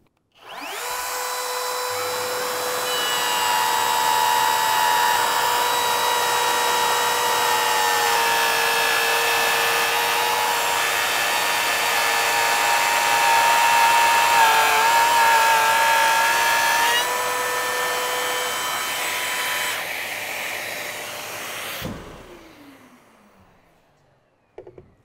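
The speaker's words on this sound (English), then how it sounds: "So in summary, we have the GLF 18V-8, an affordable edge router and laminate trimmer." A Bosch GLF 18V-8 cordless edge router and laminate trimmer cutting a 5 mm pass in wood: a loud, sustained high whine that holds steady for about twenty seconds, then spins down and stops.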